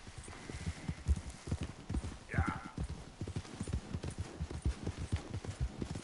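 Horse hooves clip-clopping in a steady rhythm in Red Dead Redemption 2, loud and close, with a brief whinny-like tone partway through and a voice talking at times.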